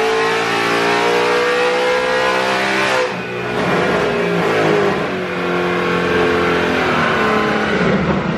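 A 1000 hp 2018 Mustang GT on a dyno revs hard and loud, its engine note climbing and staying high with a brief dip partway through, with no talk over it.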